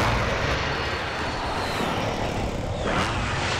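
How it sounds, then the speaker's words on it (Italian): An air strike in Call of Duty Warzone brings a loud, steady roar of aircraft engines filling the clip, a close, continuous rush with a rising swell near the end. "Segnalo il bersaglio per un attacco aereo."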